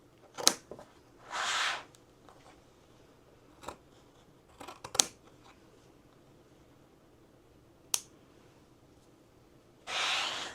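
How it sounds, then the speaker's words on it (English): Scissors snip through beach towel corners to remove two-inch squares, a few short crisp cuts and longer rasping drags heard close and clear in a quiet room, with no talking. "We are going to cut 2" by 2" squares in each corner."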